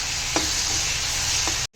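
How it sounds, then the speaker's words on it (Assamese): Tomatoes frying in a hot pan give a steady, close hiss of sizzling oil throughout, with a couple of faint stirring scrapes before it cuts off. "বিলাহীখিনি দি দিছোঁ আৰু এইখিনি ভালদৰে ভাজি ল'ম এতিয়া"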